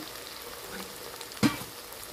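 Cashew and almond paste goes into a pan of spiced base for egg korma, giving a low, soft sizzle with one brief wet clatter partway through.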